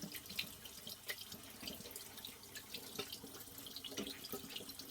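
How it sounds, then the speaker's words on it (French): Tap water runs steadily into a sink while a sponge rinses something, a continuous close hiss with small splashing fluctuations and no talking. "maintenant je vais rincer"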